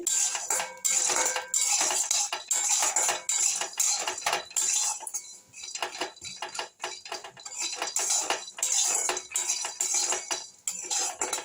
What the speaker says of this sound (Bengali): কড়াতে আমি তেল দিয়ে দিয়েছি দিয়ে ডালের বড়িগুলো আমি কড়ার মধ্যে দিয়ে দিলাম দিয়ে একটু ভেজে নেব লাল করে